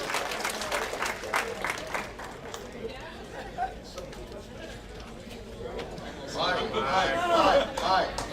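Audience applause at a shuffleboard awards ceremony, clapping that starts, thins out amid chatter and murmuring in the room, then swells again loudly toward the end.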